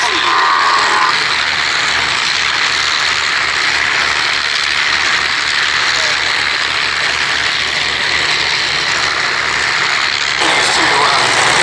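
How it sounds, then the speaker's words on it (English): Consolidated Catalina flying boat getting airborne at the Duxford VE Day air show, its piston engines giving a steady, loud droning roar that holds for the whole stretch with a slight change near the end. "the Catalina gets airborne, the first of the aircraft in our salute formation to do so"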